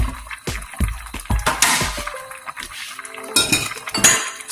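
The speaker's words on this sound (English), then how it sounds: "I'm going to throw the rest of the mushrooms in there." Mushrooms tossed into a deer and onion stew pot, giving a run of clattering clinks of metal and cookware, several sharp knocks close by and alone, with no talking.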